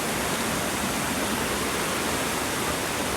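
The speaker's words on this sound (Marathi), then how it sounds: "मस्त बघा धबधबा कसला भारी" A waterfall roars in a dense, constant rush of falling water, loud and unbroken with no other sounds.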